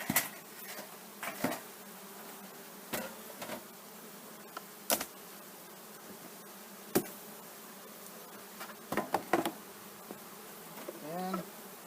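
Honey bees hum softly around a hive being smoked, their buzz forming a faint continuous drone, broken now and then by short, sharp knocks and clatters from beekeeping equipment.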